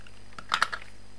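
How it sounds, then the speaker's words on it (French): A few quick, faint crackling clicks as double-sided tape is handled and pressed down for a ribbon craft project, three short bursts close together in an otherwise quiet room. "je vais mettre du double face ici."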